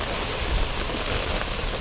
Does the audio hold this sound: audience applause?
no